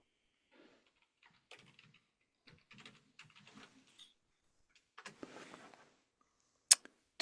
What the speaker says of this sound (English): It's hard for me to type over here because my keyboard is like at the end of my reach.